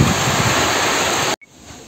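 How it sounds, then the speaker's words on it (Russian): Steady rain pours down as a loud, even rushing hiss that cuts off abruptly partway through, leaving a much quieter background. "В общем, дождик еще идет."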